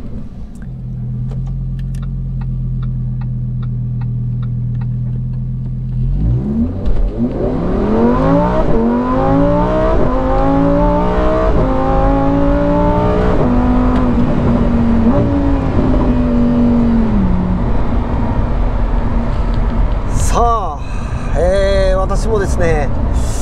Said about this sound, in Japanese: トロフェオモードでフル加速の音をちょっと再現します。